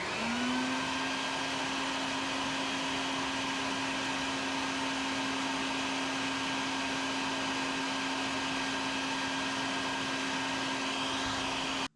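A BucketHead bucket-top shop vacuum runs steadily with a droning motor hum and whine, loud and constant for the whole stretch before cutting off at the end.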